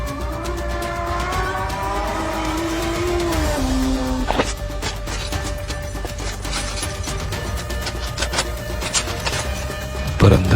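A car engine drones steadily in an audio drama, its pitch sliding up and then dropping as it revs, followed by sharp clicks and knocks, with no talk.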